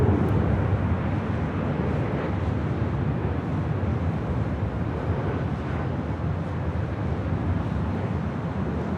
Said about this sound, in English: over on the south side, we do have a Kaleta Air 747-400 converted freighter